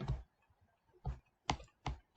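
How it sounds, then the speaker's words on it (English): Text being typed on a computer keyboard, a few quiet, separate key taps with short pauses between them, close and alone. "We would have to type that in here."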